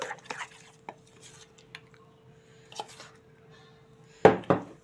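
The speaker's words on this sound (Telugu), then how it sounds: "ఉండలు లేకుండా ఇలా కలిపేసుకోవాలి." A spoon clinks and scrapes around a bowl as ragi flour dosa batter is stirred, giving irregular close taps, with two louder knocks near the end.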